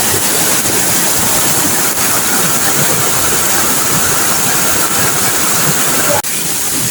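Heavy rain sends floodwater rushing through a cave, making a loud, continuous broadband roar with a steady churning wash that barely changes, and no voices are heard.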